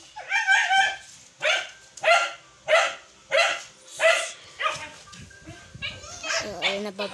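Dogs at a home in the Philippines bark loudly in a steady run of about eight sharp yips and barks, roughly one every half second, then trail off into whimpering yelps.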